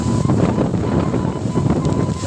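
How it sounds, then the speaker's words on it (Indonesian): Strong gusting wind buffets the microphone high up at the top of a coconut tree, a loud continuous rushing roar that fills the whole stretch. "Anginnya kenceng sahabat bro."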